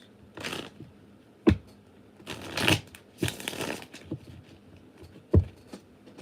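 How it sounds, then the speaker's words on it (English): Playing cards are shuffled close by in several brisk bursts of riffling and flicking, separated by quiet gaps and sharp taps of the deck. "I'm shuffling cards."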